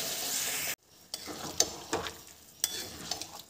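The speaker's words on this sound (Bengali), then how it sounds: "নেড়ে দিই।" Jackfruit curry is stirred in a pan after water is added, giving a few scattered scrapes and soft clatters after a sudden drop from a louder hiss, close and fairly quiet.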